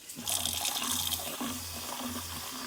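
Water runs from an RV faucet, an Airstream being winterized with antifreeze, a steady close hiss with a low hum and a few pulsing surges as the flow sputters and restarts.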